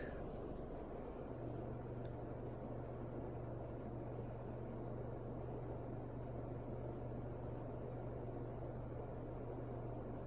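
A Vornado Zippi personal fan runs on high speed, giving a steady, even whoosh of airflow with a faint low hum that holds constant throughout, with no talking.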